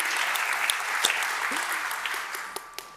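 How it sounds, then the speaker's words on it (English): An audience at an art exhibition opening gives a round of applause, a full steady clapping that slowly tapers off near the close, with a few sharper claps standing out. "let's give them a round of applause"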